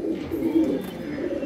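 Racing pigeons coo at their loft in Kolkata in a soft, low, continuous murmur, close by, with several birds overlapping steadily and no talking.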